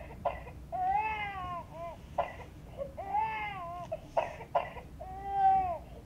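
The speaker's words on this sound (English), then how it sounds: "If she's crying with a cough, place the medicine bottle in her mouth." Cry Babies toy baby doll from IMC Toys crying with a cough: repeated short recorded infant wails broken by sharp little coughs, a looping electronic cry heard close and fairly faint, with no talk.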